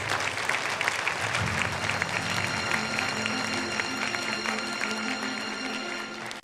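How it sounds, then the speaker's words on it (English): An audience at a peace leaders' conference applauds steadily, a dense patter of many hands clapping for several seconds, with a faint tonal hum underneath. "please give a big round of applause to those who are seated and prepared to sign the MOUs"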